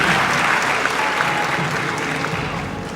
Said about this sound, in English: Can we give a round of applause for AFRIMMA?